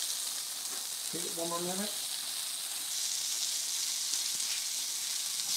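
Walleye fillet pan-frying in brown butter, a bright continuous sizzle at close range, with a short spoken remark near the start.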